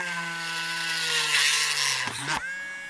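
A cordless rotary tool with a 1/8 inch bit drills into a wood pilot hole, holding a steady high whine with a brief dip and surge near the end, close and clear.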